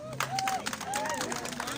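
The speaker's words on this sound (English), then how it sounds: "A big round of applause there" An audience claps after a speech, a brief round of applause with overlapping voices and a few cheers mixed into the clapping.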